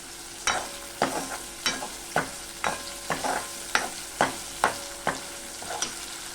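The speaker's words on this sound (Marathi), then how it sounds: "याच्यात आपण बटाटा घालून घ्यायचा आहे" Potatoes stirred into frying masala for matki usal, a sprouted moth bean curry, with a spatula scraping the pan in regular strokes about every half second over a faint, steady sizzle. No one talks.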